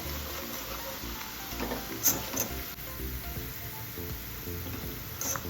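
Garlic frying in oil in a pan, cooked for street-style Burmese atho noodles, gives a steady soft sizzle with a few brief sharper crackles and pops, close by and with no voices.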